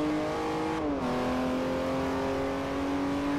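A racing kart engine in Forza Motorsport 4 holds a steady high-pitched buzzing drone, dipping briefly in pitch as it shifts, then running on evenly and loud throughout.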